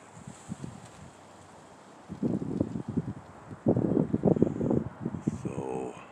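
Chilly wind gusting outdoors, buffeting the microphone in surging rumbling bursts that swell and fade, with a faint steady hiss above and no talking.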